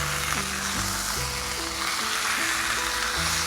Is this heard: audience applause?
no